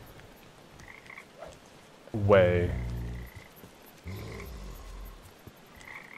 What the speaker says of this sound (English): More frogs now.